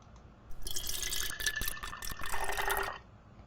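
Water pours from a pitcher in a splashing stream that is started and stopped several times, leaving short gaps in the flow, close and clear with no voices.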